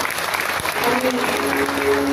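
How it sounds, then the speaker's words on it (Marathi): A kirtan audience claps in a continuous, dense burst for the young warkaris and their guru, loud and sustained throughout, with faint voices and a held tone mixed in. "त्या छोट्या वारकरी हे लेकरांसाठी, या लेकरांना घडवणाऱ्या गुरुसाठी एकदा टाळी झालीच पाहिजे."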